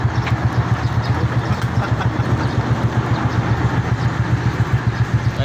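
A motorcycle engine idles close by, loud and steady with an even, rapid low pulsing throb that continues throughout.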